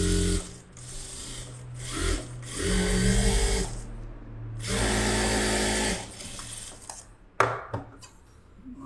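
Sewing machine stitching cotton fabric, loud close whirring runs of rapid needle clatter in several bursts with short pauses between, ending with a few clicks and handling knocks.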